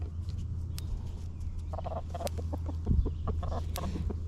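Hens cluck and chatter in short, scattered bursts over a steady low hum, several birds close by with no talking.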